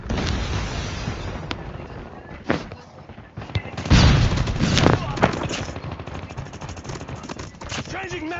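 Rapid bursts of gunfire crackle repeatedly with heavy booms, loud and close, while a voice talks over the action.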